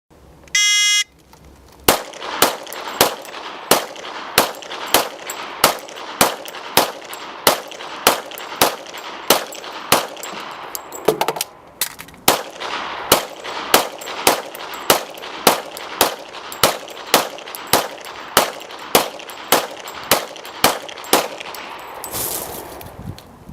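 Pistol fire emptying two 15-round magazines at three targets in a sheriff's range demonstration: about thirty sharp, evenly spaced shots ring out, with a brief pause midway for the reload, and a beeping timer signal comes at the start.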